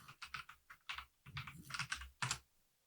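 Fingers type on a computer keyboard, giving a rapid, uneven run of crisp clicks and clacks close to the microphone.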